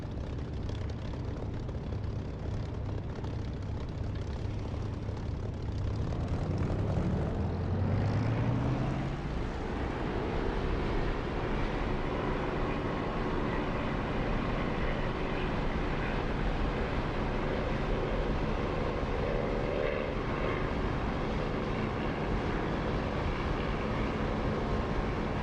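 A propeller aircraft engine in a combat flight simulator game roars steadily, with a rising pitch sweep as the throttle comes up for takeoff, then a sustained loud drone with no talk over it.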